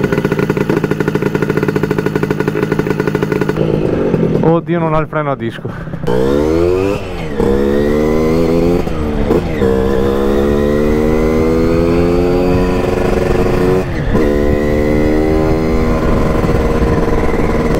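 A Zuera SS moped engine is heard while riding. It runs near and loud, with rising and falling revs as it accelerates and shifts, and someone speaks briefly over it.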